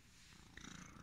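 A big old ten-year-old domestic house cat purrs up close, a soft rhythmic rumble that grows a little stronger midway, with no talk.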